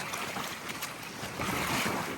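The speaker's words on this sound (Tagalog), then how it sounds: "Grabe yun, lalaki ng alon." Big sea waves rush and slosh around a small fishing boat at sea, with loud wind buffeting the microphone throughout the short, dense, noisy stretch.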